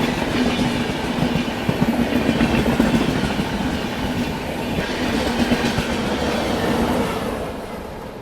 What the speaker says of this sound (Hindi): अब तो जो सामने ट्रेन आ रही है वो सीआर हो सकती है, तो ये मोस्टली सीआर राजधानी होनी चाहिए।